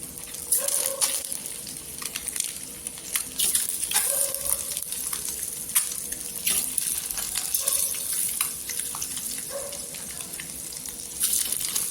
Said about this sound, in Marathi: ही अंडी आहे ती याच्यामध्ये अशी फ्राय करायची